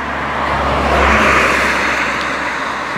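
A car drives past on a hilly road, a loud, close whoosh of engine and tires that swells to a peak and fades, heard alone without talk.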